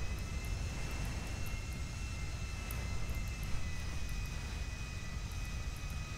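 A plane gliding in the video game GTA gives a steady, low engine rumble and airflow roar at moderate level, unbroken and with no talking.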